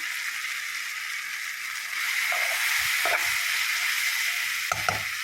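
Chicken curry in a pan being stirred as Kashmiri chilli powder goes in, with a steady soft sizzle of frying and a few brief scraping knocks of the spoon against the pan, close and alone.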